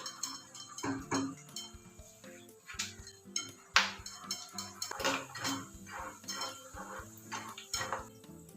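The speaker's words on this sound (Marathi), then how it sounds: "कच्चे शेंगदाणे देखील तळून घेऊयात" Raw peanuts fry in oil for maize poha chivda, heard as faint scattered clinks and scrapes of a spoon against the pot with soft crackling between, irregular and close, no voices.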